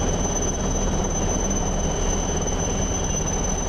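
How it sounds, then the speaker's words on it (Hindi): Chetak helicopter in a coast guard rescue airlifting crew one by one from a sinking barge in rough weather and heavy waves; a steady, loud rotor and engine drone fills the whole stretch with no talk. "इन लोगों को एक एक कर चेतक हेलीकॉप्टर के जरिए डूबते बार्ज से एयरलिफ्ट किया जा रहा है"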